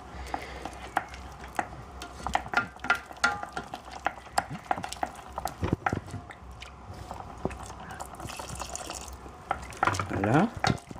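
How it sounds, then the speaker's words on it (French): Milk being stirred little by little into a thickening sauce in a pan for alpine macaroni, a spoon scraping and clacking steadily against the pan with soft wet stirring throughout, close by with no talking. "Et on rajoute petit à petit le lait. Petite quantité. Tout en cessant de ne pas remuer."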